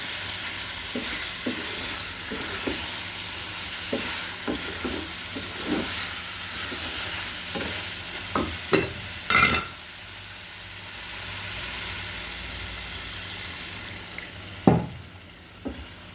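Salted hilsa fish with tomato cooking down in a pan for a thick bhuna curry, a steady low sizzle broken by repeated scraping stirs of a spoon, with a few louder knocks near the end; no talk.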